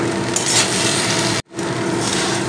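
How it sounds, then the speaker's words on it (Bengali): Cooked rice frying in white oil in a pan over a low-medium gas flame gives a loud, continuous sizzle that breaks off for a moment and then resumes, with no talk. "গ্যাসের ফ্লেমটা লো মিডিয়ামে রেখে এই ভাত ভাজাটা করবেন"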